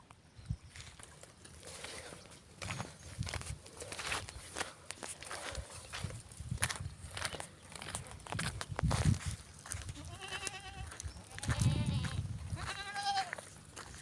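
Goats bleat repeatedly in a farm setting, several wavering, nasal calls coming close together near the end, over steady footsteps and faint rustling.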